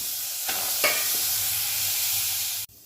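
Meat sizzles loudly and steadily in a preheated pressure cooker with no oil or seasoning, with a couple of scraping stirs, before the hiss cuts off abruptly.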